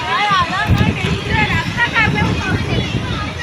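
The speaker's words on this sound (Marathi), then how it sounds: "हवा चालू आहे इकडे" Wind blowing strongly outdoors under dark storm clouds in Lonavala, a broad steady rush with buffeting across the whole stretch while someone talks over it.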